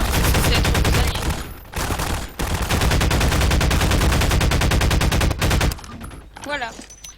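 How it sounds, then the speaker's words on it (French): Sustained, dense automatic gunfire from a Garry's Mod video game, loud and continuous rapid bursts with brief gaps, then fading into mixed game sounds near the end. "regardez, ils vous tirent dessus."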